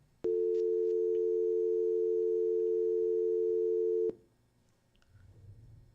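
A steady telephone tone sounds after a call-in caller drops from a live broadcast line, one loud unbroken tone lasting about four seconds. It then cuts off abruptly, leaving faint room noise.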